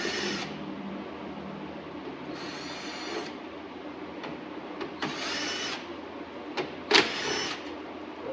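Cordless power tool backing bolts out of a 2014 Nissan Altima during a headlight lens replacement, several short whirring bursts with pauses and a few clicks between them, moderately close.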